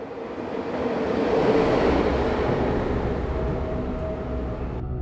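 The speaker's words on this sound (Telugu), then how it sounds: "అటు పక్క ట్రాక్ నుంచి ట్రైన్ చాలా వేగంతో వెళ్తోంది" A loud rushing rumble swells and fades as a train passes close by at high speed on an adjacent track at midnight, steady roaring noise with a faint tonal whine near the end.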